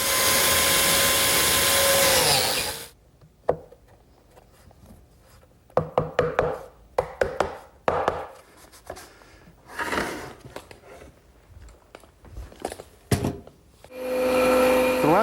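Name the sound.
biscuit joiner cutting slot in wood side piece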